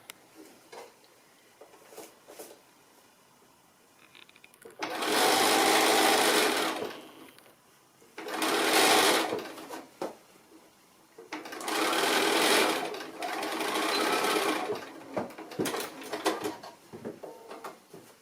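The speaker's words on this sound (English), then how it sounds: "I'm just going to stitch that seam" A sewing machine runs in four separate bursts, each a steady whirring stretch lasting a second or two, as it stitches a fabric seam on a fat quarter fabric basket, with quiet handling between runs.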